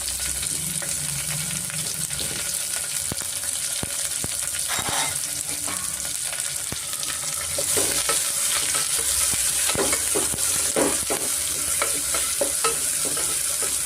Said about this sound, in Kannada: ಈರುಳ್ಳಿನೂ ಚೆನ್ನಾಗಿ ನಾವು ಫ್ರೈ ಮಾಡ್ಕೊಬೇಕಾಗುತ್ತೆ